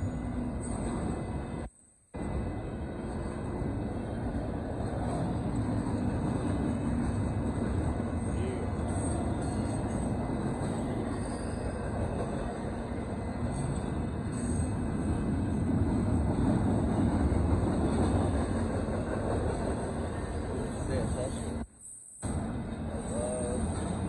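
A northbound Union Pacific auto intermodal freight train rolls past a road crossing in Austin, Texas, a steady broadband rumble of wheels and cars holding for the whole stretch with a couple of brief dropouts.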